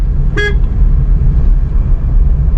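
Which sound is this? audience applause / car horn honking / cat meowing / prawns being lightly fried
car horn honking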